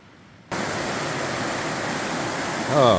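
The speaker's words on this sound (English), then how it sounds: "I got to go back to watching the river." The Dosewallips River in Olympic National Park rushes over a waterfall, a loud steady roar that starts abruptly and continues unbroken, with a brief voice near the end.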